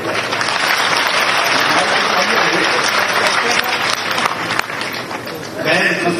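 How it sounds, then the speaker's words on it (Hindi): Audience applause at a floral tribute ceremony marking the birth anniversary of Peshwa Bajirao I, loud sustained clapping from a large crowd with a voice over it, lasting about six seconds. "आदरणीय श्रीमान ज्योतिरादित्य सिंधिया जी, ताली मिले तो जोरदार"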